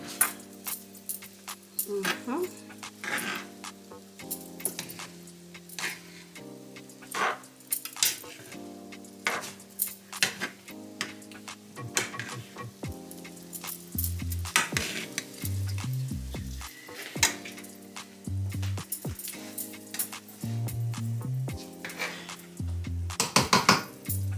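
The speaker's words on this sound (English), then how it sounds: "Put it in there. Stir it up." Shrimp fried rice ingredients with spur tree pepper are stirred in a pot over the fire, a spoon scraping and clanking against the metal in repeated strokes over a light sizzle, with music playing underneath.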